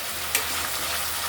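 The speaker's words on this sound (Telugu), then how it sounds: "అల్లం వెల్లుల్లి పేస్ట్ వేసుకొని పచ్చివాసన పోయేదాకా వేయించుకోవాలి" Ginger garlic paste frying in a pan for Telangana-style bagara rice, a steady close broadband sizzle with a brief stir or scrape near the start, no voices.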